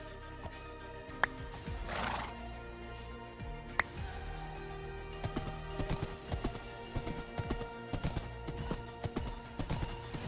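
A horse in Minecraft clip-clops with light hoof taps, with a whinny near the start, over a steady background of game music.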